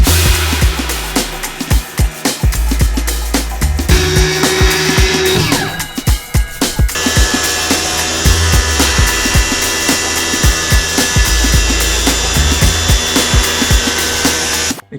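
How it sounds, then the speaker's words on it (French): A power saw with a cutting disc, the kind used to cut a van floor, runs loud and close, whining steadily through the cut with brief stops and restarts along the way. "là c'est tout ce qui est coupe circulaire avec un disque ici"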